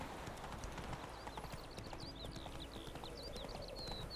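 Hooves clip-clop at a steady trot as a horse is ridden in The Witcher 3, a regular rhythm set against a faint bed of birdsong and ambient game sound.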